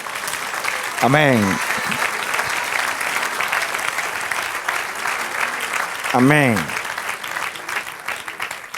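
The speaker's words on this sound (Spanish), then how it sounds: "Dale aplauso al Señor." Steady applause from a crowd at a church service fills the whole stretch, while a voice calls out twice above the clapping.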